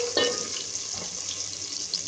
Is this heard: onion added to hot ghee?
yes